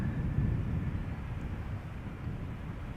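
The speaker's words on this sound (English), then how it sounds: "This is KLM flight 1042 arriving from Birmingham, 737-800." A KLM Boeing 737-800 arriving from Birmingham at Amsterdam Schiphol in poor visibility makes a low, steady engine rumble that eases slightly, heard at a distance with some wind and no speech.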